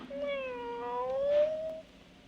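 A single drawn-out cat meow, clear and fairly close, rising slightly in pitch before fading.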